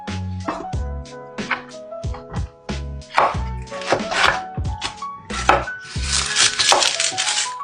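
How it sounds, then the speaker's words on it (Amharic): A knife cuts onion, bell pepper, tomato, red jalapeño and garlic in half, making a run of firm, close thunks and slices in uneven rhythm, with background music playing throughout. "ሽንኩርት፣ የፈረንጅ ቃሪያ፣ ቲማቲም፣ ቀይ ሃላፒኞ ፔፐር እና ነጭ ሽንኩርት ለሁለት እየቆረጥን ፓትራ ላይ እናደርጋቸዋለን።"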